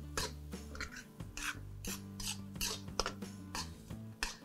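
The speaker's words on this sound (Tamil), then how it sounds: "அந்த ரவையை இதில் கொட்டுறேன். கொட்டி அந்த சூடுலேயே இவங்க எல்லாம் நல்லா மிக்ஸ் பண்ணிவிட்டு இதை வறுக்கணும்." Dry semolina (rava) being stirred and roasted in a hot pan for rava khichdi, giving a steady gritty scraping and rasping with repeated spoon strokes against the metal, close and fairly loud throughout.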